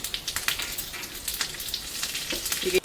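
Curry leaves crackle and spit in hot oil for a tempering, close and moderately loud, with sharp popping bursts over a steady sizzle.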